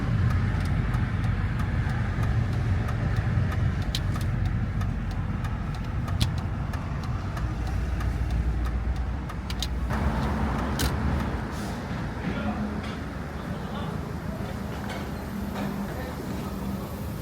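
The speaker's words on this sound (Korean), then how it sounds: "아 엔진 소리 너무 좋다" The engine of a first-generation R50 Mini Cooper runs steadily with a low rumbling hum, nearby and fairly loud, shifting slightly in tone partway through.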